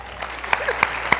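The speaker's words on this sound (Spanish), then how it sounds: "tiene que ser un aplauso para él" A crowd applauds a man at an informal gathering with the Colombia women's national football team, with brisk clapping close by and a few distinct louder claps rising over the general patter, lasting about a second.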